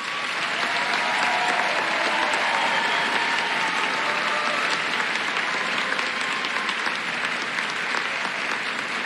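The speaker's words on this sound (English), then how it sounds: "Let's give another round of applause." Sustained applause from a large commencement audience fills the hall, steady and dense from start to finish without letting up.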